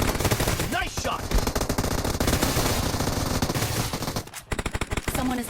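Sustained unsuppressed Groza assault rifle fire in PUBG Mobile, rapid-fire shots running almost continuously at close range and high volume, with a short break near the end before a few more shots.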